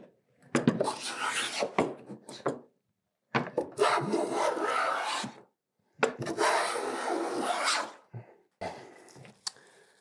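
A hand plane fitted with a thin Stanley iron shaves walnut in three separate strokes, each a rasping swish lasting about two seconds, with brief knocks and handling sounds between passes.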